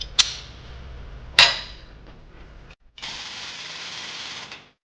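Dimple die pressing a 1.5 inch flanged hole into a Jeep CJ7 panel: two sharp metallic clicks near the start, a lull, then a steady grinding, ratcheting press lasting about a second and a half before stopping abruptly, close by and alone.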